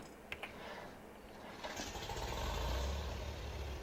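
A tractor engine in Farming Simulator 22 cranks and starts, settling into a low, steady rumble that builds to a loud idle, alone with no talk.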